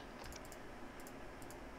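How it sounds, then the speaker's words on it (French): Faint computer keyboard typing: a few quick, light key clicks in small clusters over a steady background hiss, with no voices. "Y'a qui casse son clavier, là?"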